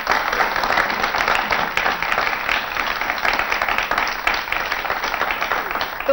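Studio audience applauding at a televised poetry gathering, dense, even clapping that holds steady throughout without any talk over it.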